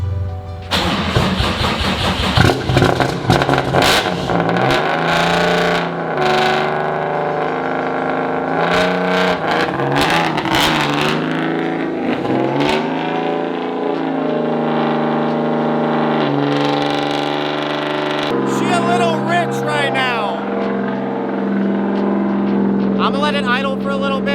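A Subaru WRX STI with a swapped-in H6 engine cranks and fires, then settles into a steady, loud idle with a sustained rumble and some shifting revs, a voice talking over it at times.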